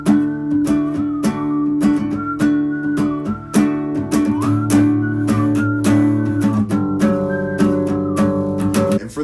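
Strummed acoustic guitar chord progression played with the fingernail, sustained ringing chords changing every few beats, close and steady with no voices.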